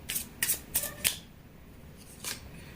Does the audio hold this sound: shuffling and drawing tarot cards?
yes